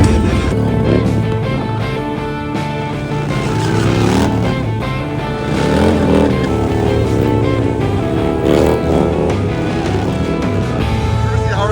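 Motorcycles roar at a stunt show at Eureka Springs Harley-Davidson, a dense, continuous engine drone rising and falling as bikes rev and manoeuvre, loud and close throughout.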